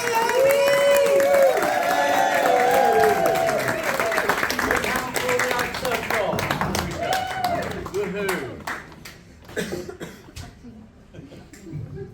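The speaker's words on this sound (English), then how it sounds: "Can we have a big round of applause, baby?" Audience applause and cheering at a comedy showcase, loud clapping with whoops and voices from the crowd at first, then thinning to scattered claps that fade out over several seconds.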